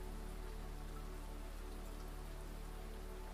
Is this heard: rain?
yes